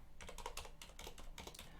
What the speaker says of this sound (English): And then it's some typing to do.